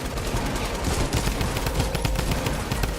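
Fortnite gunfire crackles in dense, continuous bursts, rapid overlapping shots forming a loud, sustained fusillade throughout.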